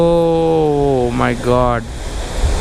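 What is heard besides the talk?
Chitrakote waterfall roaring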